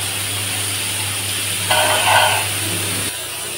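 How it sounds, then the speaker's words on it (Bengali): Helencha greens frying in a pan are stirred and lifted out, a steady sizzle with a brief louder scraping burst midway before the hiss drops off near the end. "এই দেখুন শাক ভাজা হয়ে গেছে আমার।"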